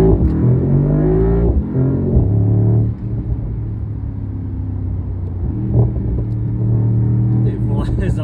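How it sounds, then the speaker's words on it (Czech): A car on the move, with a steady engine rumble and brief revving swells throughout, under nearby talk; the car's wing-style door opens. "Tady vidíte to auto za jízdy"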